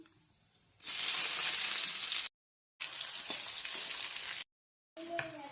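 Chopped onions fry in hot oil in a kadai, a loud, close sizzle in two sustained bursts separated by sudden silences, then a short quieter stretch with faint clatter.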